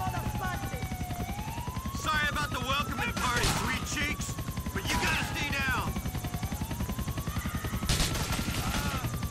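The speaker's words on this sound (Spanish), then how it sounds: "el único que me está disparando en serio es el helicóptero" A helicopter in GTA The Lost and Damned thrums steadily with a low rotor pulse while bursts of gunfire crack over it, mixed with rising and falling game sound effects and someone talking over the action.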